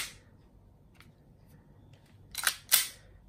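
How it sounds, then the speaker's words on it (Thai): A Hi-Capa 5.1 T-Rex Force Series gas airsoft pistol fires test shots, two sharp close cracks in quick succession near the end after a quiet stretch with faint clicks. "เรามาทดสอบความเร็วกระสุนกัน"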